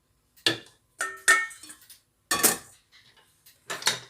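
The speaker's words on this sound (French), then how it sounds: "Ensuite, je mets les jaunes à monter." Egg yolks beaten by hand in a bowl give a series of sharp, close clinks and taps of a whisk against the dish, arriving in irregular bursts with short quiet gaps and no talking.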